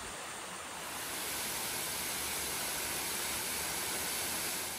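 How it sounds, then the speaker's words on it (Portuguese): Water of a stream pours steadily down a huge rock wall beneath a cave, a continuous broad rushing hiss with no pauses, fairly distant and even in level. "E a água segue o caminho, descendo."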